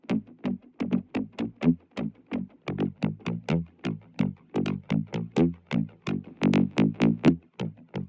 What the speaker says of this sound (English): add some warmth, which is like a bit of saturation